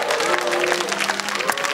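An audience claps for Gevorg Aghajanyan at a gala show, a short burst of dense applause from a crowd, fairly faint and even, with a little talk mixed in.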